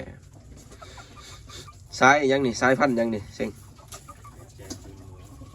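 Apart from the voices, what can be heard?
bantam chickens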